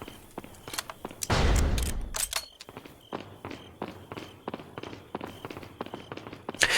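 Resident Evil 4 combat with one loud gunshot blast followed by a string of quick sharp clicks and footsteps, close and punchy against a quiet background.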